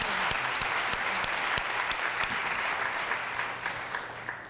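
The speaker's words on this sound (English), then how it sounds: "I believe we should have another round of applause for these two great talks." Audience applause fills a hall after two talks at a public health Q&A on the urban landscape, a dense, steady clapping wash with a few sharper individual claps, fading slightly toward the end.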